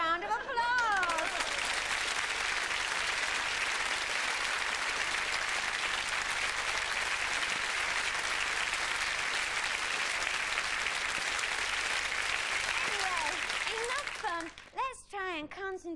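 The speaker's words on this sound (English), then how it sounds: "give her a round of applause" A studio audience on a TV talk show breaks into sustained loud applause with some cheering and chatter mixed in, holding steady for a long stretch before fading as a voice starts speaking near the end.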